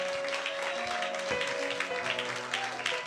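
Church congregation applauding and acclaiming the Lord at a worship service, a steady wash of clapping mixed with voices and sustained musical tones underneath, continuous and fairly loud throughout.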